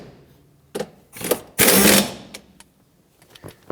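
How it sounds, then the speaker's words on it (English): Bolts on a 2008-2010 Ford F-450 Super Duty seat mount are run down with a power tool in short mechanical bursts, loudest in one sustained whir near the middle, with quiet pauses between. "Since we're here, let's just tighten these down."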